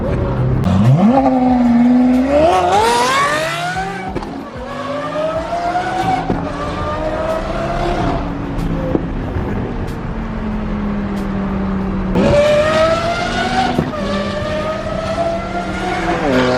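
A high-revving Lamborghini Aventador SVJ supercar engine roars and climbs through gear shifts on a highway in Mexico, loud and close, with tire noise, fading slightly before another sharp burst of revving.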